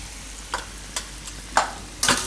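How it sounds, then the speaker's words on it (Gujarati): Turmeric, coriander-cumin powder and red chili are stirred in hot oil over a low flame for a matar paneer curry. A handful of separate scraping stir strokes rise over a soft, steady background sizzle. "થોડીક વાર આને મસાલા આ રીતે શેકી લેવાના ધીમા ગેસે."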